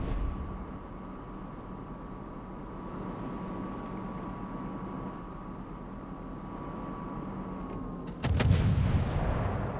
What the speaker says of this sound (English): Oregon shoots some shells, I shoot a few more just to see